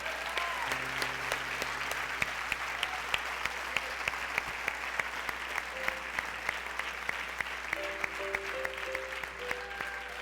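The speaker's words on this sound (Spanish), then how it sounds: "Dale un fuerte aplauso a la palabra" Congregation at a church service claps enthusiastically for the preacher's sermon, a sustained dense round of applause from a crowd with a few sharper individual claps, steady throughout.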